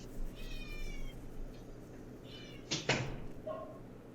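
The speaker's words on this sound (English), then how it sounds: "Oh, look at the kitty. I didn't even notice him." A domestic cat meows several times indoors, drawn-out harmonic cries at moderate volume, with a short clatter and a final brief mew following.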